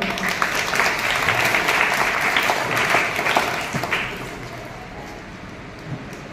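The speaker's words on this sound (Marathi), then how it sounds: "आपण सर्वांनी त्यांचं टाळ्या वाजवून स्वागत करावं" A crowd claps to welcome the village sarpanch, Devkitai Dhokte, at a school admission festival, with dense, steady applause that thins out and fades after about four seconds.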